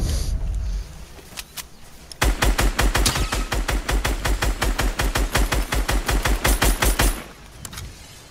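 Fortnite gunfire: a couple of isolated shots, then a long rapid burst of loud automatic fire in a steady rhythm lasting several seconds before stopping, close and dominant.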